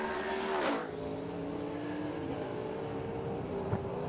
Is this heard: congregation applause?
no